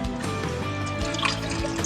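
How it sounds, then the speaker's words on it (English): Water runs steadily into a car cooling system hose, a continuous gurgling, trickling fill heard close and alone during an upgrade of the cooling system. "Seems like this hose is just filling up though."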